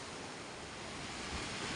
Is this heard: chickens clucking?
no